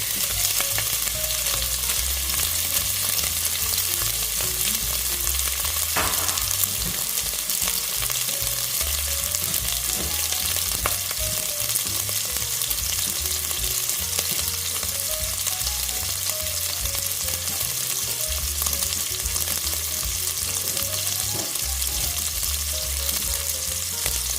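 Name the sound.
sausage frying in a hot pan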